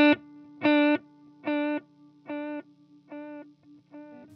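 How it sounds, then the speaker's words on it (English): A distorted guitar note through a TC Electronic Triple Delay pedal repeats six times in a steady quarter-note rhythm, each echo fading slightly softer, with a wobbling, warbling modulated tape-delay character. "It's like a kind of a modulated delay thing."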